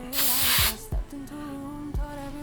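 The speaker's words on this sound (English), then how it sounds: "I'm gonna go in with a light hairspray all along that." Light hairspray spritzed along the lace of a full lace braided wig: one short, close hissing burst lasting about half a second, followed by quieter handling sounds.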